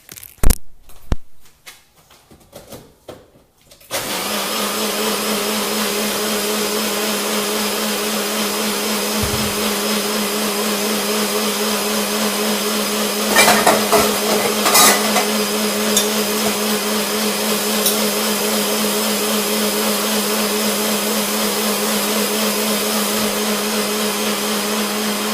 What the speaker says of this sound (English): let me just go back and put it into blender.